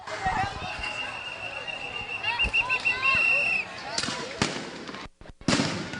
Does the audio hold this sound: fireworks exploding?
yes